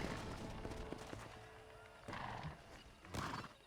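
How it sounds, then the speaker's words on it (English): Horses in a race in Red Dead Redemption, with whinnies and hoof clatter over steady game ambience, a couple of louder neighing bursts standing out near the end. "No me gustan las carreras de caballo."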